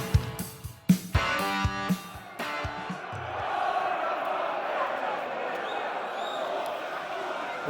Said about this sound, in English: that energised crowd reaction you can hear is in response to the Ibiza style light show pre-match